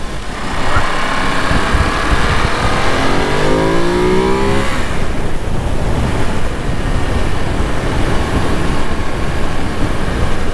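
Ducati Monster 2025 motorcycle ridden on a motorway in fifth gear at about 90 km/h, heavy wind rush dominating, with the engine note rising briefly as it revs mid-way before fading back under the wind.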